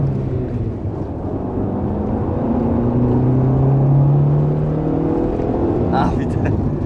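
A Honda CR-X engine revs and climbs steadily as the car accelerates from a start, with a loud, rising drone that keeps building through the whole stretch.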